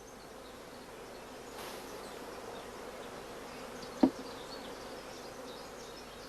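Honeybees hum around an opened hive brood chamber during queen cell rearing, a steady, moderately soft buzz with a single sharp knock partway through.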